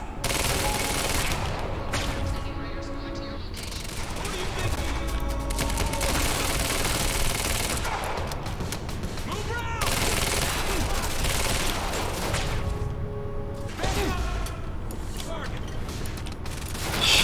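Sustained automatic gunfire and bursts in the video game Quantum Break, dense and loud throughout with booms and mechanical clatter layered over a busy game soundtrack, and voices shouting amid the firefight.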